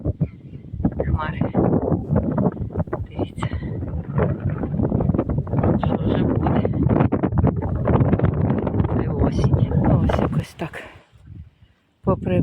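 Gusty outdoor wind buffets the microphone steadily in a yard, with someone talking in Ukrainian throughout over the rushing noise.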